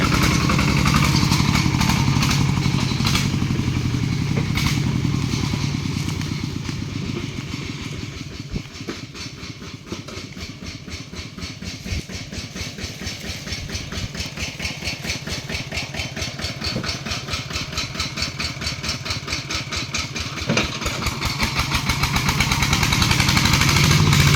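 A motorcycle engine pulls away from close by, the putter fading slightly as it moves off, then settling into a steady, rapid idling chug that swells louder again toward the end.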